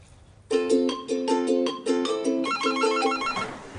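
A telephone ringing in a medical office, a loud close electronic ringtone repeating in a steady patterned trill of bright tones, with no talking over it.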